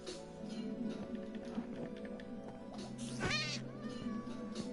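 Cats meow in a Minecraft game, a drawn-out wavering meow near the middle with softer cat sounds and light taps around it over steady background game noise.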